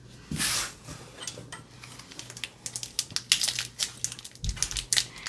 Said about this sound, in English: do the shuffling.